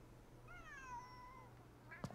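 A cat meows in the video game Ghostwire: Tokyo: a single drawn-out, wavering meow at moderate level over a low steady hum, followed by a short sharp click near the end.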